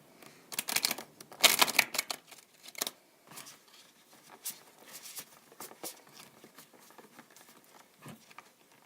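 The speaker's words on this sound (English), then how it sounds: "I'll just shuffle it again with the intention of your question." Tarot cards are shuffled by hand, with quick riffling bursts of papery flutter early on followed by softer, scattered taps and slides of the deck, close and crisp with no talking.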